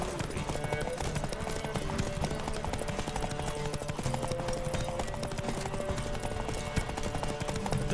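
Steady hoof clip-clop of a galloping horse in The Witcher 3: Wild Hunt runs throughout, mixed with continuous music and game sounds at a constant level.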